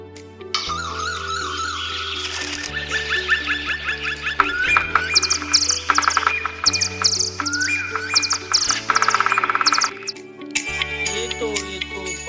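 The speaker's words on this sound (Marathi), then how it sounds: "पाखरे बोलू लागली." Birds chirping as a sound effect in a children's story, with bright, rapid tweets layered over steady tonal backing music throughout.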